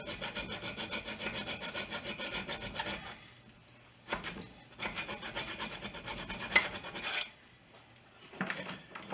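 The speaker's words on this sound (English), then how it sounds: "with the Dremel tool and using a couple little bitty, they're made for chainsaw, sharpening a chainsaw" A Dremel rotary tool fitted with a small chainsaw-sharpening bit grinds a deer bone being shaped into a knife: steady, rasping bursts of about three seconds and two seconds, a brief touch between them, then a short final pass.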